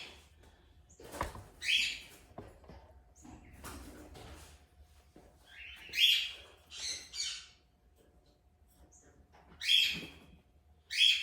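An Indian ringneck parrot in a home aviary gives several short, sharp squawking calls in separate bursts, fairly close and loud, with quiet gaps between them.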